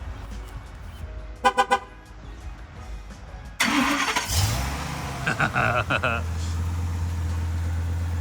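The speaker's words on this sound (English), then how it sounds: "Remote start." A Ford F350 pickup's engine starting by remote start: a few short chirps first, then a loud cranking burst that catches and settles into a steady, close idle rumble.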